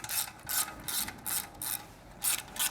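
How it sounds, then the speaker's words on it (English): A ratchet fitted with a 10mm socket loosens a muffler clamp on a Triumph Street Twin exhaust, with about six quick close clicking bursts in a steady rhythm and no talk. "loosen the muffler clamp using a 10mm socket"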